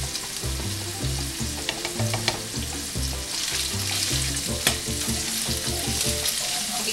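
Bacon sizzles loudly in hot grease in a pan beside pasta on the stove, a dense, steady crackle with sharp pops and a few spatters, close up and without speech.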